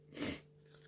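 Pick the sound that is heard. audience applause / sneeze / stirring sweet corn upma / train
sneeze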